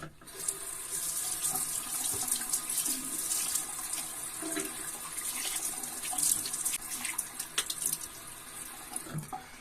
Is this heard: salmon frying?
no